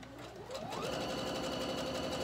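A Pfaff Passport 3.0 sewing machine stitches a wide zigzag, its motor spinning up quickly and then holding a steady, fast mechanical whir with rhythmic needle ticking, close and continuous.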